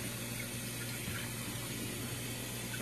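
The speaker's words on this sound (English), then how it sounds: "Now I'm just going to put some water in it." Tap water runs steadily into a container being rinsed at a sink, a continuous close splashing rush with no talking.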